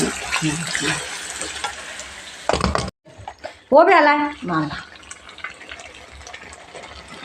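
Water poured into a pot of yogurt-marinated chicken cooking for biryani, a gushing splashing pour after background sizzling, with a voice speaking briefly over the scene.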